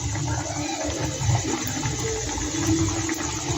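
Small gaja sweets deep-frying in hot oil make a steady, close hiss and bubbling that holds without a break for a few seconds.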